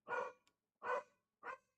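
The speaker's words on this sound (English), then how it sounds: "Apologies, my dog just lost her shit." Dog barking indoors, three loud, sharp barks in an even rhythm separated by short silences, close to the microphone, with no talk.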